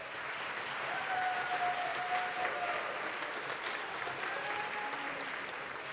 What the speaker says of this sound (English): So let's give each other a great big round of applause.